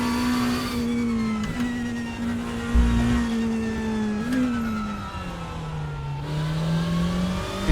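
A Lamborghini Temerario GT3 with a twin-turbocharged flat-eight engine drives in RaceRoom. The loud, steady engine note rises and dips through gear changes without talk.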